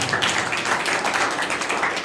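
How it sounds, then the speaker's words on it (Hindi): An audience applauds at a Hindi kavi sammelan poetry recital, a steady dense wash of many hands clapping that stays loud and even from start to finish. "ताली बजाइए।"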